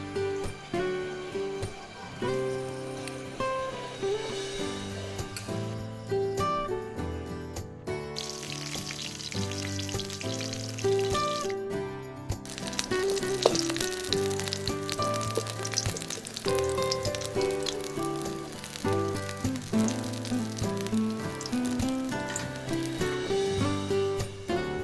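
Pointed gourd coated in gram flour fries in hot oil, giving a continuous crackling sizzle that runs steadily underneath prominent background music throughout.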